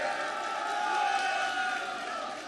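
A crowd at a political rally roars and cheers in a steady, dense wash of voices, with shouting that swells and fades over a couple of seconds.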